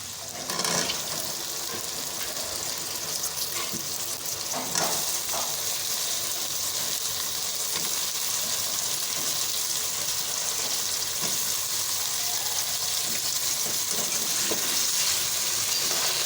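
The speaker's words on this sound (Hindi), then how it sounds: "अब इसको भी हम थोड़ा सा फ्राई करेंगे, आलूओं को भी लहसुन अदरक के साथ।" Potatoes fry with garlic-ginger paste in a pan, sizzling steadily, with occasional stirring scrapes and small clinks throughout.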